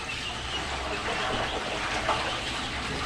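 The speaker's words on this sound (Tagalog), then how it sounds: "lalagyan mo ng tubig, kunin tubig lang" Water splashes and gushes steadily into a container for a saltwater mix for chicks, a close continuous pouring sound with no talk.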